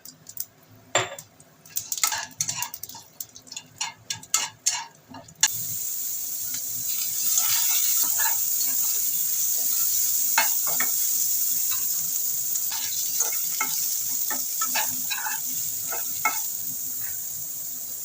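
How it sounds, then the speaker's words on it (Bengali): Dry red chilies and black cumin hit hot oil after fried fish, first with sharp clinks of a utensil against the pan, then a sudden loud, steady sizzle with scattered crackles and stirring scrapes. "শুকনো লঙ্কা কালো দিয়ে ফোড়ন দিয়ে দিচ্ছি"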